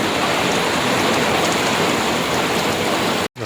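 Heavy monsoon rain pours steadily onto a waterlogged cotton field on a farm, a loud, dense, unbroken hiss close by, cut by a brief dropout near the end.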